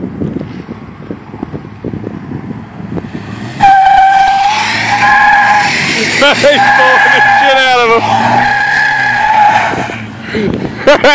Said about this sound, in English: Look at that skid mark you left, Guinan!